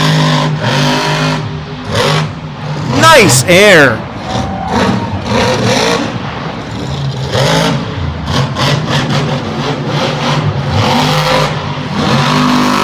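Bad Company monster truck engine roaring and revving hard during a freestyle run at a Monster Jam arena show, loud and continuous with repeated throttle surges, with a commentator talking over it.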